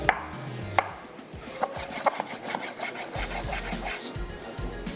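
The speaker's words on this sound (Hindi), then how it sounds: "यहाँ पे डालेंगे 2 से 3 अदद टमाटर चॉप करके" Tomatoes being chopped on a board: irregular, fairly quiet knife strikes and scraping taps spread across several seconds, with no talking.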